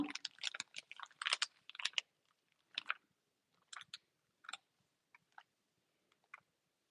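Someone chews cheese up close in short, moist bursts of smacking clicks, busy at first and then thinning into sparse, isolated mouth sounds against near silence.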